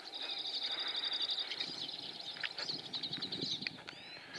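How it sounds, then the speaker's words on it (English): Short, sharp jip-jip calls of crossbills flying over the Maine North Woods repeat in quick bursts over a faint outdoor background, with a few louder notes near the end. "they fly over making a jip-jip sound."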